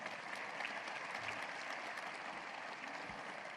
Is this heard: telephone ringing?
no